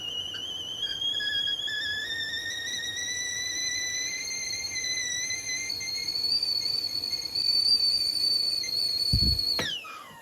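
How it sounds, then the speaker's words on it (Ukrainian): A Rainberg RB-626 2.3-litre stovetop kettle, half full, whistles shrilly and steadily, the tone slowly climbing and growing louder before cutting off abruptly after a low thump. "зараз ви можете дослухати, як працюватиме свисток"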